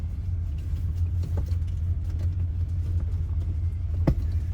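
Steady low engine rumble of a 1979 Chevrolet Impala with an LT1 engine cruising along, continuous road noise with a couple of small knocks, no talking.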